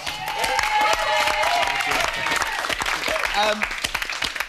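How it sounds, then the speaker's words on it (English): A TV studio audience on The X Factor bursts into loud, sustained applause, and voices talk and exclaim over the clapping throughout. "That deserves applause."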